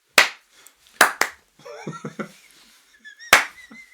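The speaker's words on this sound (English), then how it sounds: "Don't clap too loud." Hands clap in short, sharp bursts: a single clap, then a quick double, and after a pause one more loud clap, with brief speech-like sounds in between.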